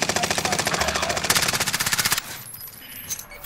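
Rapid bursts of automatic gunfire in a first-person shooter video game, a steady rattling stream of loud shots for about two seconds that cuts off abruptly into quieter game ambience.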